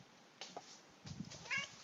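A house cat meows several times in short, close bursts, with a quiet, near-silent background between the calls.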